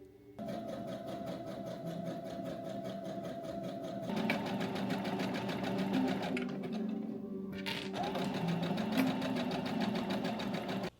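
A sewing machine runs close by while sewing a fabric dart, a steady whirring hum broken by a couple of brief pauses, with faster, brighter bursts of stitching after each restart.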